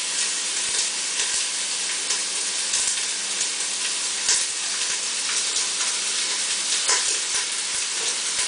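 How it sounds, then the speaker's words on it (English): Steady, close sizzling of onions frying in a hot pan for biryani, a continuous bright crackle and hiss with occasional louder pops. "You can hear that sizzle. That's the sound you want to hear."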